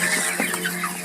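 A rooster on a small broiler chicken farm gives a few soft, quick clucks over steady background farm noise, close by and without talk.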